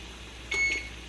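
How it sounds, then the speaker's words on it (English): A kitchen timer gives a single short electronic beep over low background room noise in a home kitchen while green beans cook. "And our timer is about to go off."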